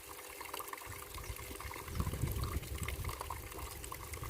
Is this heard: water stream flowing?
yes